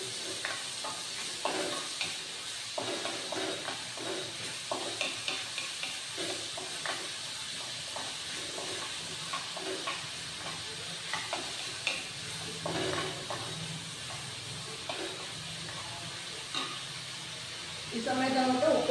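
Ingredients for potato cutlets being lightly sautéed in a pan produce a continuous soft sizzle with frequent small stirring scrapes, and a voice is heard at moments over the cooking.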